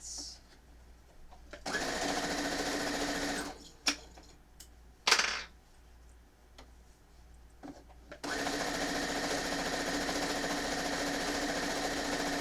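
A sewing machine stitches quilt fabric pieces together in steady, loud whirring runs of fast needle clatter, broken by a quiet pause with small clicks and handling knocks before sewing resumes.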